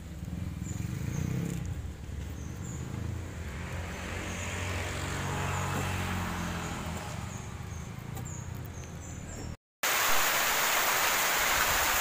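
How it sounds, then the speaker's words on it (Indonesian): Heavy rain pouring during an outdoor short film shoot in Java, Indonesia, a steady loud hiss of downpour lasting throughout, with a brief cut near the end before the rain resumes. "Syuting gagal karena cuaca hujan."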